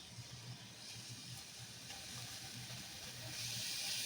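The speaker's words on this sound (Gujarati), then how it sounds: "આપણે મેથીને થોડીક વાર સાતળી લેશું" Fenugreek seeds sautéing in hot ghee give a faint, steady sizzle and hiss that swells slightly toward the end, heard alone.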